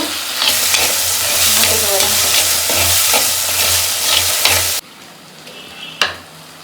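Ingredients for a prawn and fish curry sizzle loudly in a pan while a utensil scrapes and stirs them. The frying sound drops away abruptly near the end, leaving a quieter hiss and one sharp clack.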